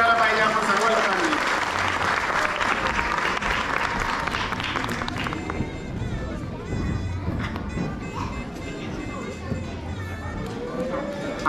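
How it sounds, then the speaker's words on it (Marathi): Loud applause from a crowd welcoming a girl performer at a Gudhi Padwa celebration, dense clapping at first that thins out, with children's voices and chatter mixed throughout. "होऊन जाऊ द्या जोरदार टाळ्या"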